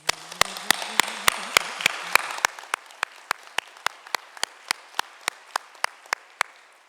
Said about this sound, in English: Can we take just a moment to give them a round of applause?